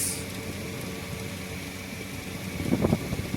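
An air cooler fan runs with a steady, even whoosh of moving air at moderate volume, unchanging throughout, with a faint hint of a voice near the end.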